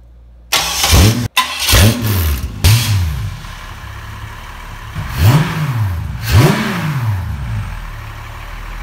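A propane-fuelled Ameri-Barra 4200 Atlas engine, fed from grill gas, cranks and catches loudly close by, then revs up several times in rising and falling surges between stretches of rough idle.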